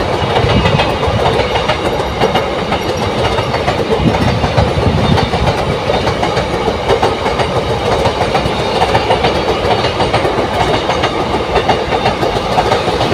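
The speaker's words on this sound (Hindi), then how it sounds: "यहाँ पे ट्रेन आ चुकी है।" A train arrives near a large lake in India, its wagons rolling past close by with a loud, continuous rumble and clickety-clack of wheels on rails, and no talking.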